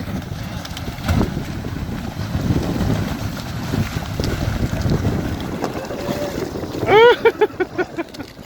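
Sherp amphibious ATV driving, a steady low rumble mixed with gusting wind noise, then a string of loud rhythmic pulses near the end as the machine moves off.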